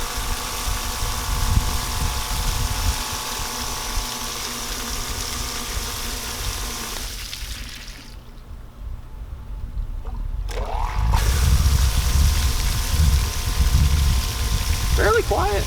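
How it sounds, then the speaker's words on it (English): Water sprays and splashes steadily from a Homdox 8000 L/H submersible sump pump. A loud continuous rush with a low motor hum cuts off for a few seconds and then restarts more strongly, and a person talks over it. "And then that thing's going to spray the water out so you can see it."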